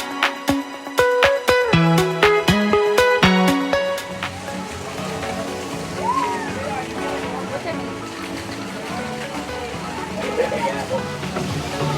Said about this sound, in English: A lot of the waterfalls here kind of react to your hands, and they'll go up higher as you go up high.